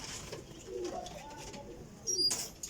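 A Sialkoti flying pigeon, a female, coos softly in a few low murmurs, then a brief louder flutter or chirp near the end, all faint and close.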